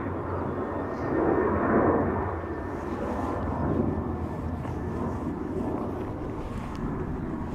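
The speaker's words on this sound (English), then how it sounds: "I'm gonna wait till this ATR gets a little bit closer." An ATR turboprop airliner approaching Dublin Airport, a broad steady engine roar with wind noise, swelling slightly midway and holding at a moderate distance, no talk.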